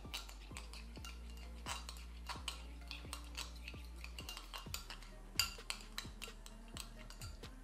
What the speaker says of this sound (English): And you mix it very well.